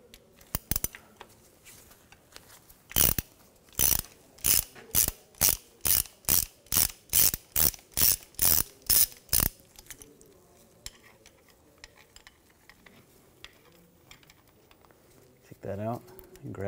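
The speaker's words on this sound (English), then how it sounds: "Using a 5 millimeter hex socket, we're gonna take that bolt out." A ratchet with a 5 mm hex socket backs out a bolt on a crankshaft position sensor of a 2006-2010 BMW 550i 4.8L V8, a dozen loud, evenly spaced clicking strokes up close, then quieter handling sounds.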